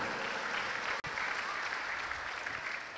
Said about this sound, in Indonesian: Tepuk tangan untuk santriwan santriwati kita ini sholat setelah ini tanpa disuruh.